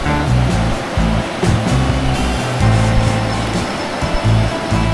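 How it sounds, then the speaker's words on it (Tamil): A fast-flowing jungle river in Thailand rushes past in a loud, steady roar of churning water, broadband and continuous with no voices. "உங்களுக்கு இப்போ சத்தம் கேட்கணும்னு நினைக்கிறேன், ஆறோட சத்தம்."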